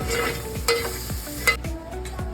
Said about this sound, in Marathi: ह्या वाटणाला फोडणी द्यायला आपण थोडं परत तेल टाकलं आहे आणि मी आता हे वाटण यामध्ये टाकते.